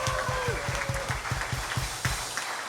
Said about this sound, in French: Est-ce qu'on peut applaudir les gens de la technique?